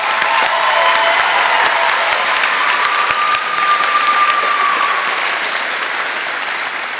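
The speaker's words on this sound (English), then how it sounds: "So a huge round of applause for Mrs." A concert audience at a high school holiday pops concert applauds steadily and loudly throughout, dense clapping with a brief whistle, holding strong before easing slightly at the end.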